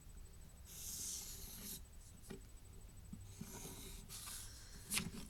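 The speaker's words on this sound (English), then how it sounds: "So I'll quickly draw the wheel for you." A pen scratches and rubs across paper while drawing a small wheel diagram, with soft strokes in bursts and brief pauses, close and quiet with no voices.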